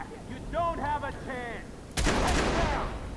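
Brief vocal sounds give way to a single loud, booming shotgun blast in Watch Dogs, a headshot, followed by a ringing, echoing tail.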